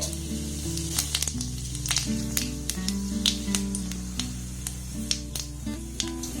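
Clove, cardamom, cinnamon stick and cumin seeds sizzle in hot oil in a kadai, a steady crackling fry with sharp pops, heard over soft background music.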